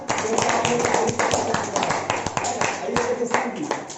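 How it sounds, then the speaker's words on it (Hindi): A small audience at a naturopathy health camp gives a brief burst of scattered hand clapping, close and uneven, with voices murmuring underneath. "चलिए इनके लिए वो जोरदार तालियां"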